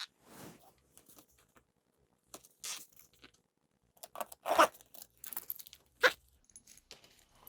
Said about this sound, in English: Now you can go ahead and add your pull to the zipper.